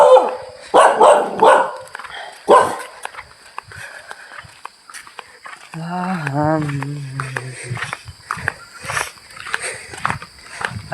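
Dogs bark on a dark road at night: a few sharp barks early on, then a drawn-out howling bark midway, heard near and fairly loud with scattered background noise and faint voices.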